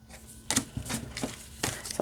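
A large oracle card deck is shuffled by hand in a few separate riffling bursts, close and fairly loud, with quiet pauses between them.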